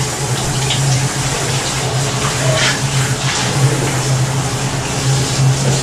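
Water runs in a loud, steady, continuous rush while rinsing the surfaces of SCBA breathing equipment during a decontamination session, with a low hum underneath.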